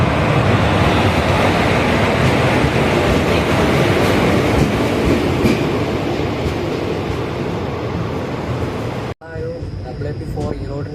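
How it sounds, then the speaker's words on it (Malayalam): A train hauled by an Erode-based WP4 locomotive crosses close by as a loud, continuous rumbling roar with clattering, heard from a stationary train at a junction. The roar cuts off sharply near the end, leaving quieter ambience. "ഈറോഡിൻ്റെ WP4 വെച്ച് ക്രോസ് ചെയ്ത് പോയ വണ്ടി ഏതാണെന്ന് അറിയില്ല"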